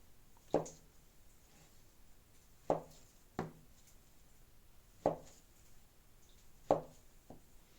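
Knife slicing boiled sausage on a board for a salad: five or six sharp, separate chops spaced a second or two apart, close and crisp, with quiet pauses between them.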